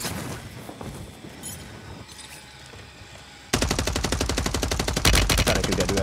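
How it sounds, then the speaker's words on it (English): Rapid automatic gunfire from the Striker in Warzone 3 bursts in loud and close after a few seconds of quieter game ambience, a steady rattling stream of shots aimed at an enemy below. "Trying to shoot that dude at the bottom."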